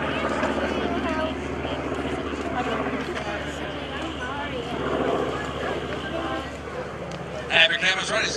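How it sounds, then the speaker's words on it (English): Propeller drone of an FG-1D Corsair warbird flying a pass at an airshow, a steady loud engine roar mixed with crowd and announcer talk throughout, swelling slightly near the end. "Happy cameras right as Tom Duffy brings the beautiful FG-1D Corsair."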